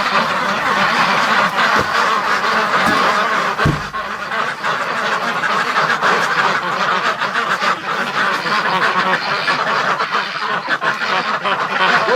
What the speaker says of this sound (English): Oh, ducks!